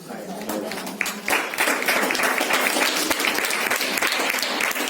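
Audience applause at a satsang gathering: a loud, dense wash of many hands clapping steadily for five seconds, with a voice speaking over it.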